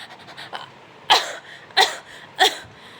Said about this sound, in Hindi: खांसते छींकते